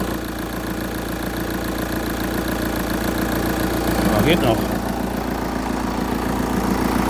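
A 2-litre engine in a large vehicle, with excess crankcase pressure, idles in a steady, low drone continuously, with a brief spoken remark partway through.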